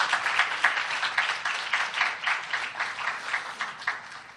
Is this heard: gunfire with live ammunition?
no